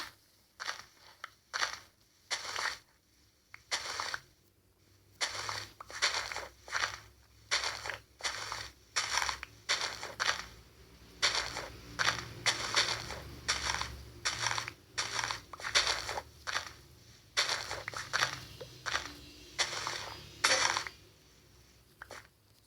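Repeated block-breaking in the Minecraft video game, a long run of short crunchy, gravelly digging bursts in an uneven rhythm, close and fairly loud, with no talking throughout.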